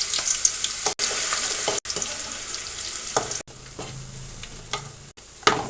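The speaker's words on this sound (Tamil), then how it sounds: "பூண்டு நல்லா ஃப்ரை ஆகி ஸ்மெல் வரும்." Garlic frying in oil for a chicken curry gives a steady bright sizzle, interrupted by several abrupt cuts and occasional scraping stirs of a spatula against the pan.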